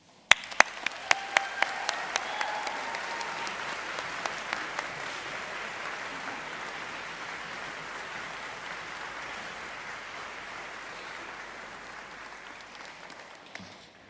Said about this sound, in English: let's take a moment to acknowledge and applaud those who have supported you